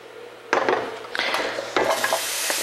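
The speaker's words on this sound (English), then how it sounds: "We get a little sizzle, just to get them going" Onions dropped into a hot pan, with clatters of the pan and utensils followed by a steady broadband sizzle that builds after each toss, close and fairly loud.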